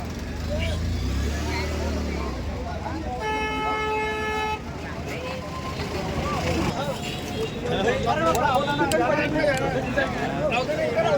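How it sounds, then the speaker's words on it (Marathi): A vehicle moves through a crowded bull market, with a horn tooting briefly amid steady crowd chatter and hoof clops, and people talk loudly throughout. "गाडी जाऊ द्या"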